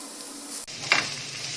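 Potatoes frying in a pan with finely chopped medium onion added, a steady close sizzle with a brief sharper hiss burst near the middle, no talk.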